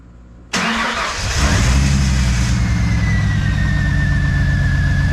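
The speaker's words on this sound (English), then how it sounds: "it's running on 6 cylinders" A 1997 Ford Mustang's 3.8 engine cranks briefly after a quiet moment, then catches and settles into a steady, loud, slightly rough idle close by, with no talking.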